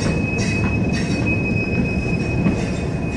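A Norfolk Southern freight train rolls past at close range in Elkhart, Indiana, its wheels giving off a steady high-pitched squeal over a continuous loud rumble of rail cars.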